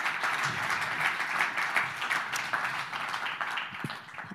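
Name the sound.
audience applause for speaker coming on stage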